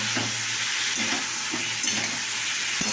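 Chili powder and cumin fry in a pan with a continuous close sizzle and rhythmic stirring scrapes and taps, with no one talking.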